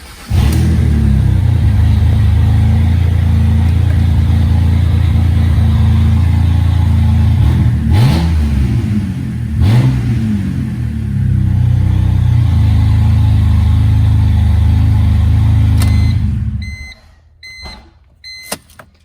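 BMW Z4 coupe engine running with no muffler, straight off the headers and cats: a loud, deep, bassy idle with a few revs, then it cuts off, leaving quiet clicks.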